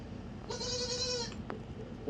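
A newborn baby goat lets out one drawn-out bleat, close and clear, followed by a short faint cry, with steady low background noise.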